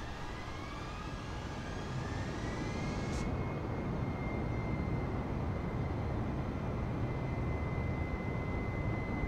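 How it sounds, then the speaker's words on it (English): A flight-simulator airplane roars at full throttle for takeoff with flaps set, rolling along a circular runway. The engine hum is loud and steady and rises slightly in pitch, with no voices. "flaps at takeoff position and full throttle"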